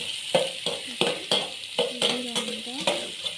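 Beetroot palya with green chilies and coriander fries in a pan, a bright crackling sizzle broken by regular spatula strokes roughly every third of a second, close and fairly loud, no voices.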